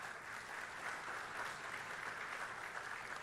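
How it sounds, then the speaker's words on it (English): A crowd at a sheriff's office awards ceremony gives a round of applause, a faint, steady rush of many hands clapping at a distance, with no speech over it. "Please, a round of applause."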